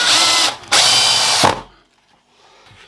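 A power drill drives screws into pallet wood for a DIY picket fence, with two loud whirring bursts separated by a short pause, followed by quiet handling noises.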